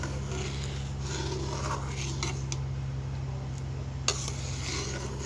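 A utensil stirs chicken haleem gently in a cooking pot, giving soft scraping and rubbing sounds with an occasional light clink of metal over a steady background hum.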